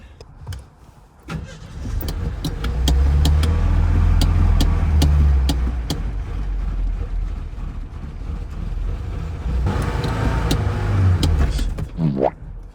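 Car engine running on moonshine, idling loudly and steadily up close with a faint whine over it, then cutting out and sputtering to a stall near the end.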